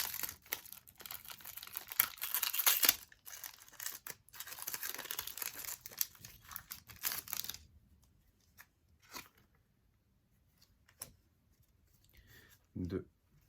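Pokémon trading cards shuffled by hand, with crinkling, riffling card friction packed densely for several seconds, then giving way to sparse, separate card slaps and handling noises with quiet gaps between them.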